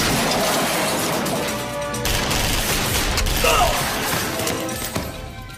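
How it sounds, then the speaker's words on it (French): A dense burst of gunfire with crashing impacts in a film shootout scene, loud and chaotic, with rapid overlapping shots and no talking. "On dirait une fusillade."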